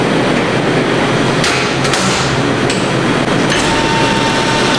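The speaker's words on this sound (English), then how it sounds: "let's go ahead and get that first grind, Eddie" An industrial meat grinder works through beef trim from a hind quarter, giving a steady, loud, continuous mechanical grinding roar with a few sharp clanks, close by and with no talking.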